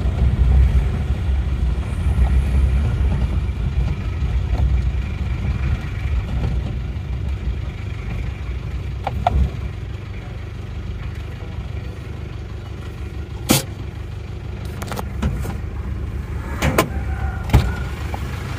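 A repaired Isuzu Panther 2.3 engine idles steadily with a low, continuous rumble, broken by a few sharp clicks and knocks near the end.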